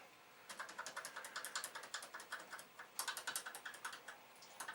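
Keys clatter on a dirty Commodore PET 2001 keyboard in quick, irregular bursts of close, crisp clicks, with a short pause midway before another run of presses.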